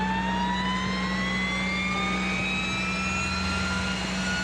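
An Alouette II helicopter turbine spools up on start, a loud, steady whine climbing smoothly in pitch over a low engine drone, close and continuous with no talk.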